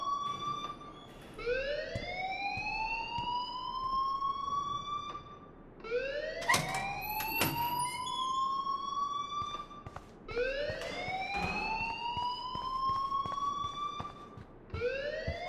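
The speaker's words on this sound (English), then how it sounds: "please turn off that alarm" A school alarm in the Life Is Strange game wails loudly and steadily, each tone sweeping upward and repeating in a cycle of about four or five seconds. It rings alone, with no voices.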